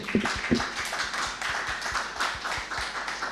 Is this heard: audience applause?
yes